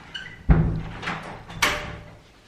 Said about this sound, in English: I'm gonna close this door because I think my brother's asleep.